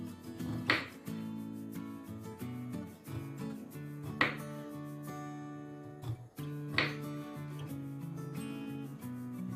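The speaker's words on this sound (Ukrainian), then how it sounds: "І поріжу смужками." A knife slices a zucchini into strips on a cutting board in several sharp strokes, with clattering and scraping between cuts and background music underneath.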